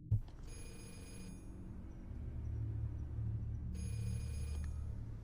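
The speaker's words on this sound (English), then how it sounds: "Your phone's ringing here." Phone ringing in the horror game Cursed Digicam, an electronic ring with bright sustained tones in two bursts over a low steady rumble, no talk.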